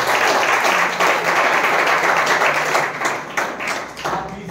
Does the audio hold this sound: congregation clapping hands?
yes